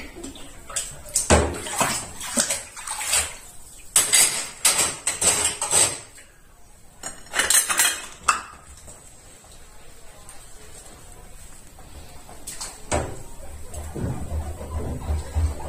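Dishes being washed by hand at a kitchen sink with running water and detergent, heard as bursts of splashing and clattering that come and go, then a steadier flow of water near the end.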